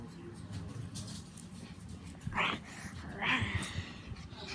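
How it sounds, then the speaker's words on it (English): A dog gives two short whimpering yelps a second apart over a low, rumbling background murmur. "There's my dog."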